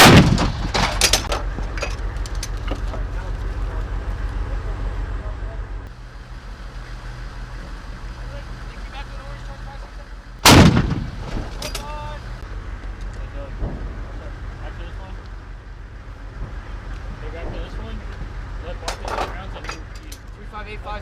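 Tank guns firing during a combat exercise: two loud blasts about ten seconds apart, each trailing into rumbling echoes over distant vehicle noise, with voices calling out.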